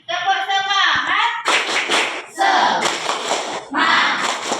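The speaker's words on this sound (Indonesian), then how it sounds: "Kita tepuk semangat dulu ya. Siap-siap. Tepuk semangat." An Indonesian primary-school class does a rhythmic group clapping routine, tepuk semangat: children chant in unison, then clap together in short patterned bursts split into three sections, with loud close voices over the claps.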